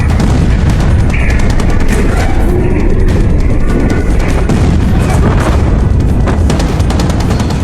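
A massive blast, seen from about a kilometre away and sending white smoke skyward, roars as a loud, sustained rumbling boom with crackling bursts through the whole stretch, dense and unbroken, with no talking.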